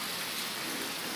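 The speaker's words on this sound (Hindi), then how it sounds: "फाइनली गोरखपुर में बारिश हुई" Steady rain falls in Gorakhpur, a dense even hiss of drops on surfaces with no pauses, close and fairly loud throughout.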